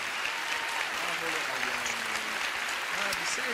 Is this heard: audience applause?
yes